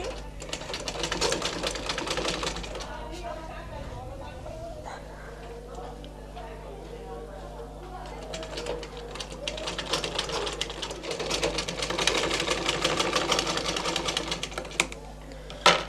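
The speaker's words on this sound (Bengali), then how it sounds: "বডির সামনের পার্টের দিকে এই মেশিনের মাধ্যমে একটা সেলাই করে নিব" A sewing machine runs in bursts of rapid, rhythmic stitching along the front neckline of a blouse, close and clear, with a person talking over much of the sewing.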